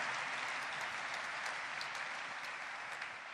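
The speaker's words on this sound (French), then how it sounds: "Est-ce qu'on peut acclamer pour le pasteur Blaise?" Church audience applauding for Pastor Blaise Mikanda after a sermon, steady dense clapping throughout, fairly quiet and distant, with no voices over it.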